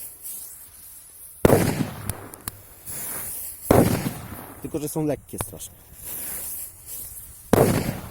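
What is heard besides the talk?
firecrackers exploding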